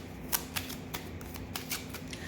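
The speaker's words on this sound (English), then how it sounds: "So let me get a card from this deck here." Tarot cards from a deck are riffled and slid, making a quick run of soft, crisp flicks and snaps, close by and quiet, with no talking.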